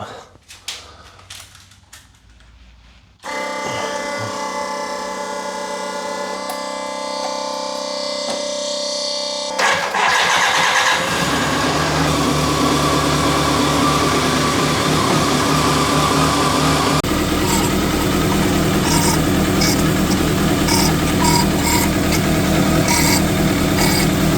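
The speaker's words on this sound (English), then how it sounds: "So the turbo runs, finally." A turbocharged BMW engine: a steady whine and hum first, then the engine catches and runs loudly with a rough, busy roar that grows harsher and higher later on.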